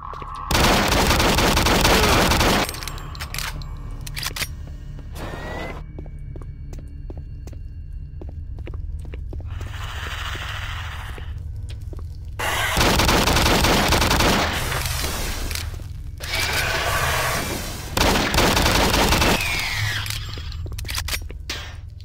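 Gunfire in Doom 3 in bursts, with a loud rapid volley at the start and more heavy bursts about halfway through and near the end, over a steady low game hum and throbbing ambience between them.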